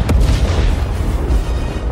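A heavy boom bursts out at the start and rolls into a dense, rumbling wash that lingers, loud and close, with no talking over it.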